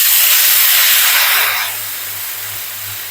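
Water poured into hot oil holding cumin and Kashmiri red chili for a dal tadka sets off a loud, close burst of steamy hissing that eases to a steadier, softer hiss after a second and a half.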